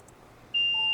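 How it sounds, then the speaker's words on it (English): An electronic device emits a short, clear, high-pitched beep, a single tone that begins midway and holds steady, alone over faint background hiss. "you don't want to annoy people by the thing beeping and you're making it beep"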